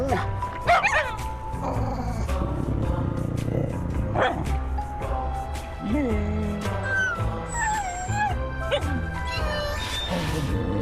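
Dogs bark, yip and whimper in a Subaru Crosstrek advertisement, short bursts scattered across a dense bed of music and voices that runs without a break.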